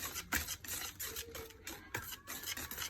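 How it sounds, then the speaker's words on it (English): Melting butter is whisked by hand in a bowl, giving quiet, quick scraping and rasping strokes in an uneven rhythm, with brief sharper scrapes along the way. "I'm not using the mixer, I'm using the whisk, okay, to make sure it all melts."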